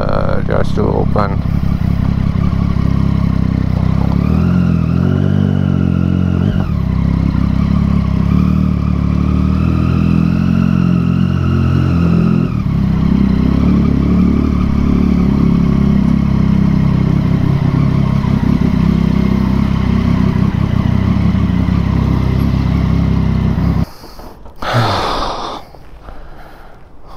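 A rare motorcycle with water in its fuel tank runs loudly up close, its engine surging and dropping through uneven revs, and a voice talks over it before the engine cuts out near the end.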